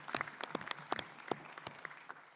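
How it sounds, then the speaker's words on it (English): An audience applauds conference panelists at a water and energy congress, a steady patter of many hands clapping at moderate distance, with no talk over it. "we could give them a round of applause at this point"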